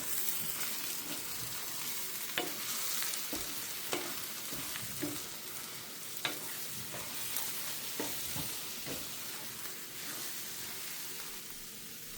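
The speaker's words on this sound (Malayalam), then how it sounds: "ഇനി ഇളക്കി കൊടുക്കാൻ വേണ്ടി പോവാണ്" Egg sizzles in a pan over raised heat while a spatula scrapes and taps at irregular intervals as it is stirred, fairly quiet and close, with no one speaking.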